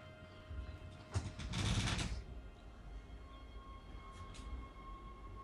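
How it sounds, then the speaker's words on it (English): A tram in the video game Dead Space rattles past with a rising rush of clatter that peaks and fades, followed by a faint steady hum and a couple of light clicks. "Oh yeah, back to this tram."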